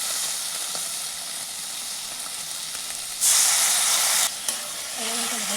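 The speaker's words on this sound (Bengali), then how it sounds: "এবার এটা ভালো করে একটু কষে নিই।" Tomato and spice masala sizzling and frying in oil in a pan for a Bengali mustard fish curry, with steady hiss and a louder burst of steam around the middle, plus occasional scrape of stirring.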